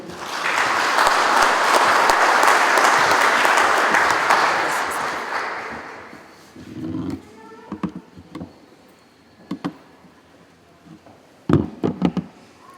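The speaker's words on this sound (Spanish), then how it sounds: "Le pedimos un aplauso, por favor." Audience applause at a formal ceremony, a dense, full round of clapping for about six seconds that fades out, followed by scattered knocks and taps in a quiet room.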